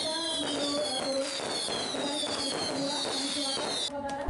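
Fireworks crackle and pop continuously over a bed of music and crowd noise at an outdoor fair, bursts layered close together without pause.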